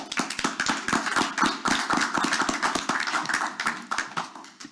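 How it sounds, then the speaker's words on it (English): Applause from an audience at a school board of education meeting: dense, steady clapping from many hands, fairly close and loud, sustained throughout without talk. "A big round of applause."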